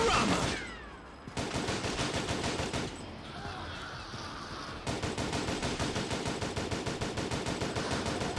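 Rapid automatic gunfire in the Unkilled zombie shooter game, loud sustained bursts of closely spaced shots that pause briefly and then resume, running nearly throughout.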